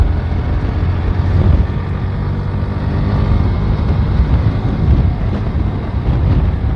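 Motorbike ridden along a city street while overtaking an auto rickshaw, giving a steady, close roar of engine and wind buffeting that runs without a break and with no voices.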